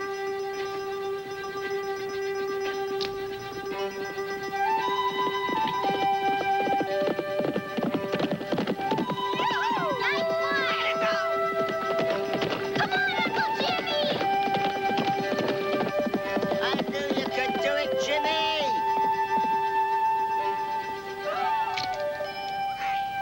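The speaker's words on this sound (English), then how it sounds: "Randy, clock that horse for a quarter mile" A horse galloping on a racetrack during a timed quarter-mile run, its rapid hoofbeats drumming steadily beneath loud music.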